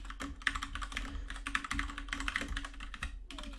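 Fingers tap steadily on a computer keyboard, a dense run of close, crisp keystrokes with a brief pause near the end and no speech.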